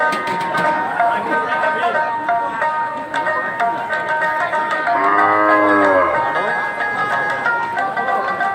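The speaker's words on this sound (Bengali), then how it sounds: "এখানে প্রচুর গরু কিন্তু আপনারা দেখতে পাচ্ছেন এগুলো সব গাভী গরু" At a busy Eid cattle market in Aftabganj with cows and their calves, one cow lets out a single loud, drawn-out moo midway. A crowd murmurs steadily and people talk around it.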